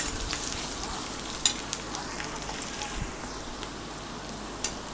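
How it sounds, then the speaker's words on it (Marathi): Chopped onion fries in oil in a pan for rava upma, a continuous close sizzle with occasional stirring scrapes and clicks and no talk. "कांदाही आपल्याला छान परतून घ्यायचा आहे तेलामध्ये."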